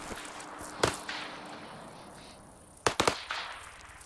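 Gunfire in the Arma 3 video game: two sharp cracks about two seconds apart, the second a quick cluster of close shots, over a quiet background hiss.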